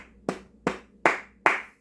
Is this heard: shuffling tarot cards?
no